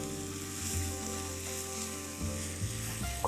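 Tomato paste sizzles and fries steadily in a hot pan for a plant-based lasagne, a continuous close crackle with a few brief stirring scrapes and no talking.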